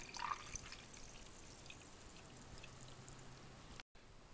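Ghee, clarified butter, being poured from a pan into jars with a fork resting in them, giving a steady faint liquid trickle close by, with no voices.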